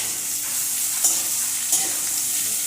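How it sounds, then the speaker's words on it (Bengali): Onion, potato and snake gourd fry in a pan over high flame, giving a loud, steady, close hiss of sizzling oil with a couple of soft scraping stirs. "এখন পেঁয়াজ, আলু, চিচিঙ্গা খুব ভালো করে ভেজে নিতে হবে। এটা আমি হাই ফ্লেমেই ভাজছি।"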